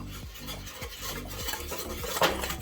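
A whisk beats ingredients together in a bowl for shrimp burgers, a brisk rhythmic series of scraping clicks against the bowl, close and steady with no voices.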